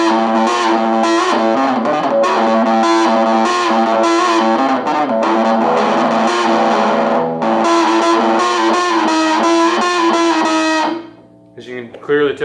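A heavily distorted electric guitar plays a fast, sustained lead line with bright, saturated tone, cutting off abruptly near the end.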